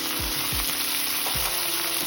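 Okra masala being stirred in a hot pan: a loud, close sizzle with a few distinct scraping strokes of the spoon against the pan, and no voices.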